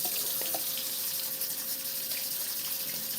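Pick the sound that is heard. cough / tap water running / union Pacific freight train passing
tap water running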